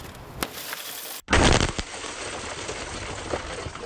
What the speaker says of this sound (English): grabbing a baseball bat and then smashing into the front right window